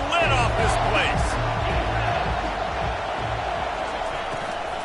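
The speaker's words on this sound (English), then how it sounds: "This crowd is tearing the lid off this place." A stadium crowd roars at a Nebraska college football game, a dense, loud sustained din under a commentator's voice, easing slightly toward the end.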